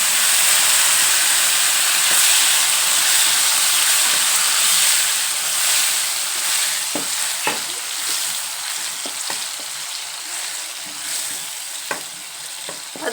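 Wet ground masala paste frying in hot oil for a home-style dhaba egg masala, a steady loud sizzle and hiss with occasional stirring scrapes and pops, no voices.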